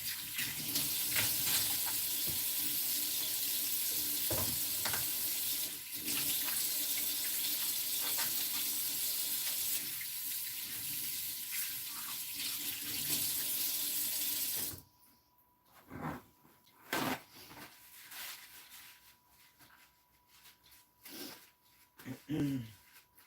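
Kitchen tap running steadily into a sink while hands are washed, a loud continuous rush for about fifteen seconds, then cut off, followed by scattered drips, rubbing and handling noises.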